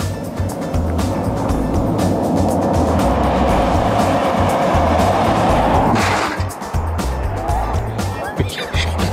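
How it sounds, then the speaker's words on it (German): A car drives past outdoors with a loud, steady road roar that swells and then drops off abruptly near the end, leaving quieter background noise behind. "Da kommt mal ein Auto."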